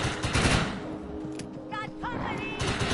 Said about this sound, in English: I'm assuming machine gun.